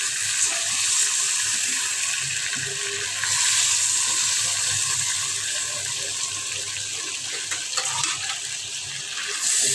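Prawns lightly frying in oil, a continuous loud hissing sizzle with faint stirring scrapes and small swells in intensity, heard close and without talk.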